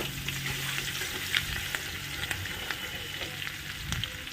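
Crushed garlic and green chillies sizzle and crackle in hot oil in a pan, with a steady close frying hiss and occasional stirring clicks.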